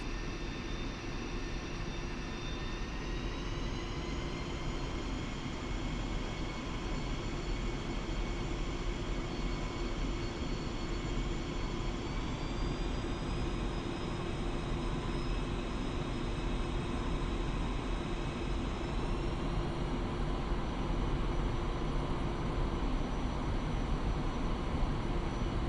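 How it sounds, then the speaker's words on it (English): Fighter jet engines held at maximum thrust during takeoff in the DCS World flight simulator, a steady, loud roar with a high whine that rises in pitch in a few steps, no talking. "increase thrust of both engines to maximum"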